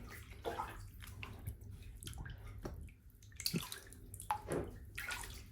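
Water runs into a bathtub, splashing and gurgling at close range with uneven bursts and small drips over a steady flow.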